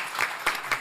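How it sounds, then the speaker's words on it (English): An audience claps for the panelists at a discussion on digital assets in Pakistan, a short burst of dense clapping with a few louder swells, close and alone. "Round of applause for our panelists."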